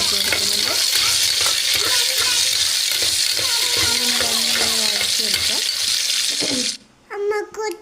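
Steady loud sizzling of onions sautéing in oil in a pan with stirring and scraping throughout, cutting off near the end to a few brief clinks.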